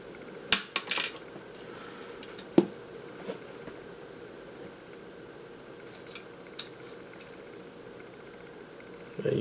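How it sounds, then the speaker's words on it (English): Small cutters snip the capacitor legs off an ignition module circuit board from a '96 Toyota T100. A few sharp, faint clicks come in a quiet room, two close together near the start, one a little later and a last one at the end. "the way I'm going to remove these, actually, with this, I'm just going to cut the legs right off"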